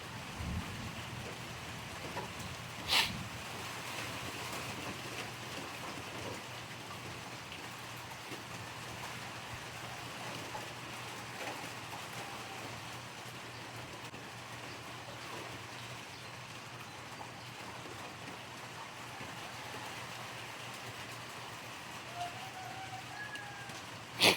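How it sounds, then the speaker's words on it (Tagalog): Steady rain falls on an open dark sea, a broadband hiss that runs evenly throughout with one brief sharp tap near the start. "Ulan lang na yan"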